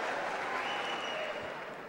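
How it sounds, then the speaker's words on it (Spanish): Crowd at a women's professional boxing match claps in a brief, steady burst, with faint ringside commentary underneath. "Aplaude la gente la mano de la Tuti"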